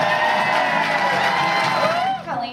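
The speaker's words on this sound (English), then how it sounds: "Round of applause for Mr. and Mrs. Eric Hyman." Wedding guests cheer and whoop for the couple in a loud, dense crowd roar that rises with higher shouts before tapering off at the end.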